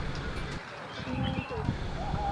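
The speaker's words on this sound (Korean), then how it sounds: "새소리가 정겹게 들립니다." Small birds sing faintly in a Dolomites forest along the Alta Via 1 trekking route, thin chirps surfacing beneath steady ambient noise and a person talking.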